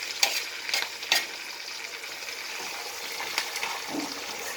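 Ginger pieces and green chillies frying in a pan, a soft sizzle broken by a few sharp scrapes and stirring strokes, close and fairly quiet with no speech.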